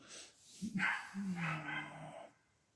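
Dogs bark a few times in quick succession at moderate loudness, with soft background noise between the barks.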